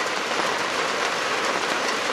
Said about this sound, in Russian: Дождь, посмотрите, какой дождь.